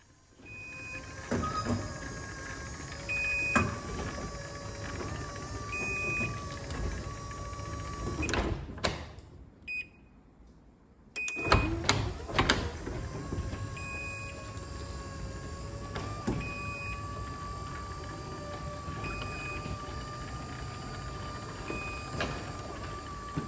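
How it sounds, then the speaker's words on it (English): A Chamberlain jackshaft garage door opener runs with a steady mechanical whir and rumble, heard from about a foot and a half away, with regular warning beeps, a brief pause mid-run, then the motor and door movement resuming. "I'm only standing about a foot to 18 inches away from this garage door opener, and you can hear how quiet it is."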